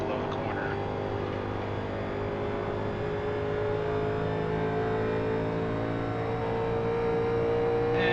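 A 1987 NASCAR race car in iRacing, Kentucky 2011 session, gives a steady, loud engine drone with sustained harmonic whine throughout, holding a constant pitch at speed without breaks.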